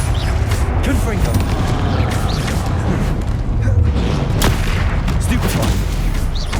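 Confringo fire spell explosions in Hogwarts Legacy on PS5, with repeated booming blasts and crackling impacts over dense battle noise, loud and continuous.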